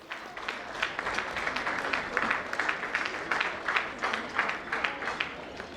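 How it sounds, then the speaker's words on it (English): An audience at a school farewell luncheon applauds a guest of honor coming to the podium, a moderate, fairly distant patter of many hands clapping with a slightly uneven rhythm, sustained throughout. "give him a round of applause as he comes on the podium"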